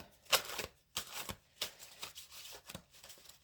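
A deck of cards is cut and handled at a quiet card reading, making several soft, brief papery riffles and taps close by.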